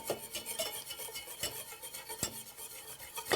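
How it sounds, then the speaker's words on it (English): Metal whisk stirring instant mashed potatoes with coconut milk and stock in a pot on medium-high heat, giving scraping, clinking strokes at an uneven rhythm, close and fairly loud, with no voices. "And we're going to whisk it around."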